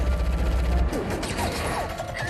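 Gunfire in a Furious 7 movie scene aimed at a semi-truck driver, a loud chattering fusillade of rapid shots with mechanical clatter, heavy at first and then continuing as scattered bursts.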